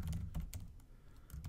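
Someone types a password on a computer keyboard, a short burst of close, quiet key clicks in an irregular rhythm with no talking.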